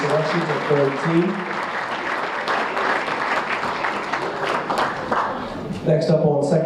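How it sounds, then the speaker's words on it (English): Guests at a high school basketball awards banquet applaud, with sustained clapping from the crowd that fills the room; a speaker's voice sounds briefly at the start and returns near the end. "Again, round of applause for those selections of third team."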